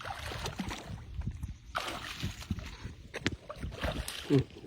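Strong river current rushes and sloshes against a small boat during a fishing trip, a steady close wash of moving water with a few knocks and splashes.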